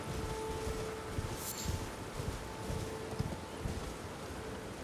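Horse hooves clip-clopping in Elden Ring, a steady run of soft rhythmic hoofbeats under faint game ambience and a low tone, fairly quiet and continuous, no voices.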